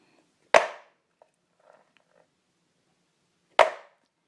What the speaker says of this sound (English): we are just going to hit this pan to the ground just several times so it fits